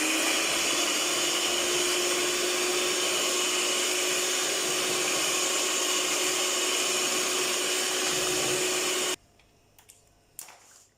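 An electric mixer beats vanilla sponge cake batter with added cooking oil, giving a loud, steady whirring hum that runs unbroken and then cuts off near the end, leaving a few faint clinks.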